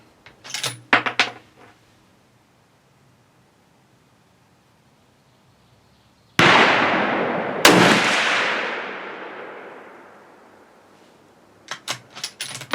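Savage 110 Desert Tactical rifle firing during an accuracy test, two loud, sharp shots a second apart with a long decaying echo, after some faint handling clicks and before more near the end.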